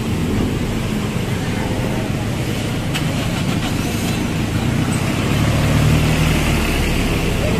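Congested street traffic on a Philippine roadside, with a continuous drone of car and vehicle engines and a brief sharp click partway through, fairly loud and steady, no talking.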